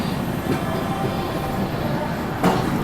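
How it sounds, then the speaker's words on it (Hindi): Punjab Mail train pulling out of a station, a steady broadband rumble of rolling railcars with a faint squeal and a brief louder clunk near the end. "पंजाब मेल भी निकल रही है और हमारी ट्रेन को भी डिपार्चर मिल चुका है।"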